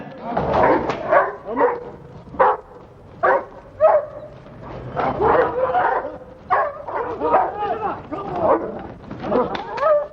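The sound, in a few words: dog barking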